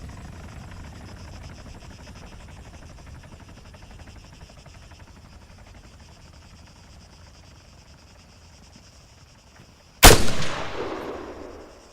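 Steady helicopter rotor drone from a distant target in Arma 3, then one sharp, loud rifle shot near the end with a ringing, decaying tail.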